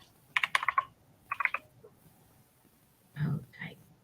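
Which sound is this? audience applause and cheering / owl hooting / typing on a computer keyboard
typing on a computer keyboard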